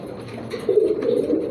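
Fancy King pigeons, a male and a female, give a low cooing close by, rising after a quiet start, with no speech over it.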